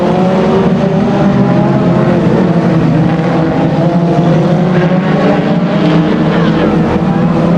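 A race car at Aldershot Raceway roars past close by, its engine a loud, steady, dense drone that fills the whole stretch with no pause.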